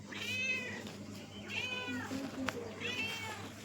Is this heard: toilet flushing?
no